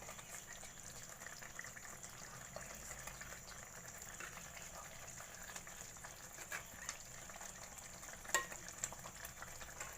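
Fish pieces frying in a pan give a quiet, continuous sizzle and crackle with a faint clink near the end, heard close and with no talking.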